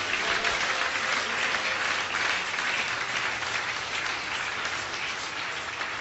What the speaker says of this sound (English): Shall we give God a clap of hands?